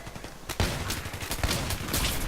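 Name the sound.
870 MCS shotgun firing in video game Battlefield 3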